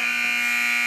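Loud electronic buzzer sounding the end of the first quarter at a boys JV basketball game, one steady continuous blare lasting the whole moment.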